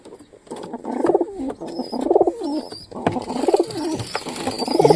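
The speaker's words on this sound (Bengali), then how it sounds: "পায়রাটা তো ডাকাডাকি করতেছে" Two white pigeons coo near the microphone in repeated, throaty bursts roughly every second, with occasional wing flutters and a faint high whine in the background.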